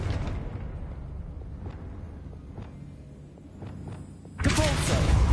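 Confringo blasting spell cast in Hogwarts Legacy, a loud explosive burst near the end following quieter combat thuds and voices.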